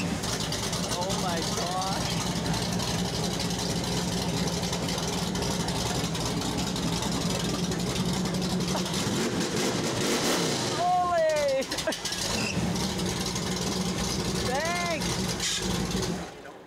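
A classic Ford or Mercury show car at an outdoor show and shine idles steadily throughout, a rumbling engine close by under people talking, with a couple of faint squeaks and whistles in the background.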